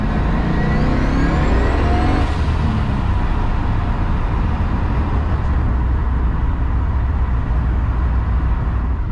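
A car with a turbocharged Gen4 LS engine accelerating hard, producing a loud, continuous engine roar with rising turbo whine that builds over the first seconds and then holds as a steady, dense drone.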